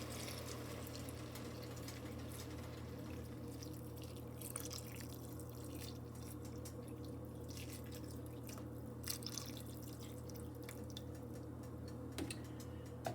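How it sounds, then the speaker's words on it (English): Half and half heating in a pot toward a boil gives soft, irregular bubbling and dripping over a steady low hum, faint and close, with no talking. "See it starting to boil?"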